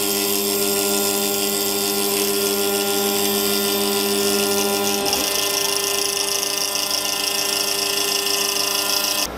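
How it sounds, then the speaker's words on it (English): A power tool cuts acrylic panels for a Cooler Master HAF932 case mod: a loud, steady whine with a tonal hum runs throughout, and its pitch and texture shift abruptly about halfway through. "I had gone into cutting some acrylic."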